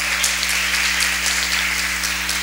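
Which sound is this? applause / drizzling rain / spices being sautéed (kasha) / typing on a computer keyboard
applause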